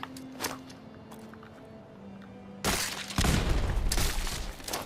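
Grenade blast in the video game Fallout 4, a sudden loud broadband burst arriving midway after quieter ambient game sounds, followed by a sustained rumbling, crackling aftermath.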